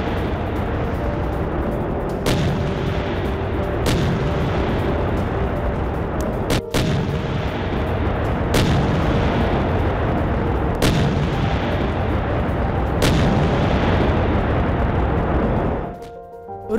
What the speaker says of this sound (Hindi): शेलिंग में रूसी कब्जे वाले इलाकों में भीषण तबाही।